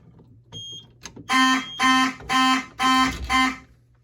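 Fire alarm horn sounding after a pull station is key-activated during a system test: a faint click, then five loud, evenly spaced buzzing horn blasts close by, ending abruptly.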